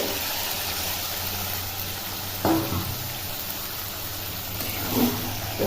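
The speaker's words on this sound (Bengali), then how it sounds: "ঘুগনিগুলো দিয়ে এখন নেড়ে নিচ্ছি" Ghugni, a chickpea curry cooked with mutton fat, is stirred in a wok over a steady sizzle, with two soft scraping strokes standing out amid the continuous frying hiss.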